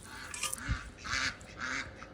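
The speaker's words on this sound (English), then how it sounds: "there go the ducks" Farmyard ducks call in a few loud, harsh honking bursts about half a second apart, close by, at feeding time with no talking.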